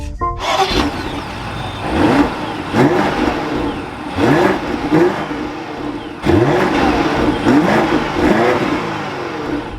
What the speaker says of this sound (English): let's fire this back up and we can take a listen to this X5.